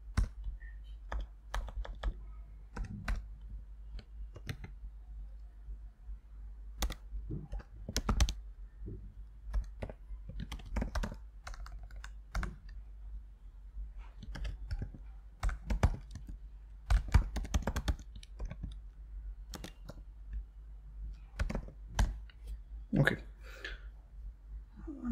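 Steady close-up typing of code on a computer keyboard, irregular runs of crisp keystrokes with occasional short pauses, over a faint low hum and no talking.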